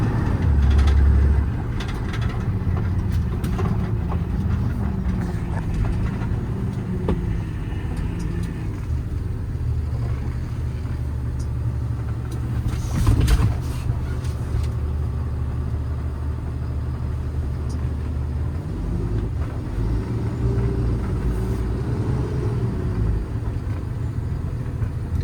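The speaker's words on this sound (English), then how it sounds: "Any rattling you hear is from that laptop mount right there." 2014 Freightliner M2 truck with Cummins ISB engine and Summit crane, heard from the cab while driving: a steady low engine rumble with shifting drone, a loose laptop mount rattling intermittently, and a louder clatter midway.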